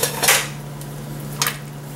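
A pasta spoon clinks and scrapes against a pot while stirring pasta, two distinct metallic knocks about a second apart over a steady low hum.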